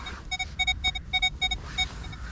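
A metal detector on a beach sends out a rapid run of short, even electronic beeps as it passes over buried wire, fairly faint over a low background rumble.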